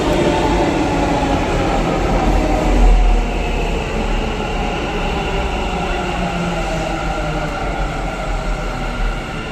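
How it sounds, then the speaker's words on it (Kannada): Interior of a Bengaluru metro train in motion, a loud steady rumble and whine of wheels on rails with a brief swell partway through and no talking. "ಆ ಸೈಡಿಂದು ಮೆಟ್ರೋ ಈಗ ಹತ್ತಿದ್ದೀವಿ ನೋಡಿ"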